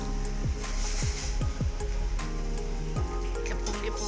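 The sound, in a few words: herbal decoction water boiling in pot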